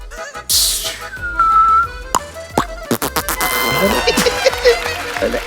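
A voice mimics a Diwali firecracker rocket, making a rising whistle that streaks off, then sharp popping and sputtering bursts. It is loud and close, with short breathy pauses between the sounds.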